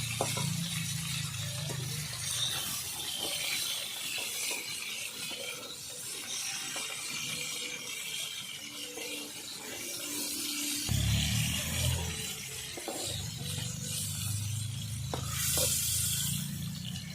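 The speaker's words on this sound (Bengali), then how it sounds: "এবার এক এক করে আমি সব কপি উঠিয়ে নিচ্ছি" Fried cauliflower lifted piece by piece from a pan of hot oil: a soft continuous sizzle with light scraping and stirring strokes, and low rumbling swells partway through, with no talking.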